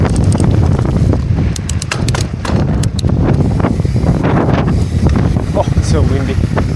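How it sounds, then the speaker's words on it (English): Strong gusting wind buffets the microphone of a helmet or bike-mounted action camera on a windy mountain bike trail descent, a loud, constant low rumble with scattered clatter from the ride and no clear talk. "It's super windy, so I'm going to take it a bit easy down Vasbyt."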